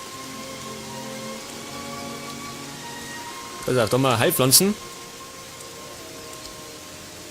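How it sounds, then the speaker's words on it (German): Rain pours steadily in the Gothic 3 video game, a constant close hiss under everything, with someone speaking briefly partway through. "Ja, dieses Gerausche vom Regen, gell?"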